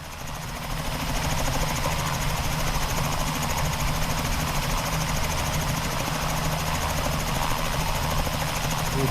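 Steady, loud engine drone of an aircraft taking off in Microsoft Flight Simulator 2020, a constant whirring hum with a thin high whine above it, running alone and unchanged throughout.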